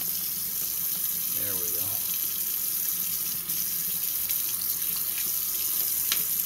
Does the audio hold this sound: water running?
yes